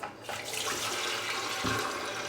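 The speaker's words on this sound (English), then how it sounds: "I'm gonna add more water" Water gushes into a kettle being descaled, a steady, fairly loud rushing pour that begins after a brief pause and runs without interruption, with no voices.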